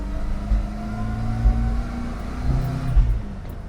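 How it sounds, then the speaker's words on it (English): A Vauxhall Viva HC on the move, its transmission, probably the rear axle, whining as a steady tonal hum over low engine drone, rising and falling slightly with the car's speed throughout. "There's a very characterful whine from the transmission,"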